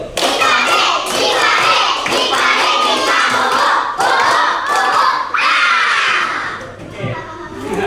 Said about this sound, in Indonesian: Supaya semakin meriah kita tepuk hantu dulu.